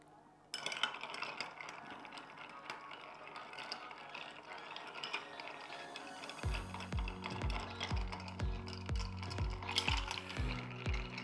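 A Manhattan cocktail being stirred down with ice: a steady, faint clinking and rattling of cubes against the mixing glass, joined midway by a louder rhythmic pulsing beat underneath.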